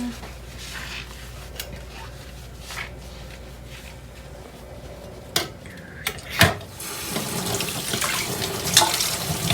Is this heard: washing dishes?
yes